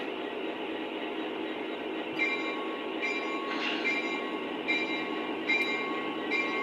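An O gauge model train running on a home layout, a continuous close mechanical whir with light track clicks and a few short squeaks, heard alone without voices.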